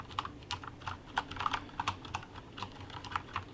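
Typing on a Corsair K70 Lux RGB mechanical keyboard with tactile switches: quick, close, crisp keystrokes in an irregular patter, fairly quiet and alone with no voices.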